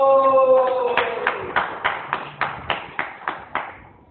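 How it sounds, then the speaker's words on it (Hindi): Audience clapping at a Hindi devotional discourse, arriving as a string of about ten evenly spaced claps after a sustained tonal sound fades, moderately loud and fairly close. "ताली बजाओ।"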